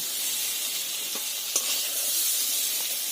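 Pieces of bottle gourd fry in a pan with a steady, close hiss of sizzling oil, broken by a couple of soft scrapes and taps as they are stirred, with no talking.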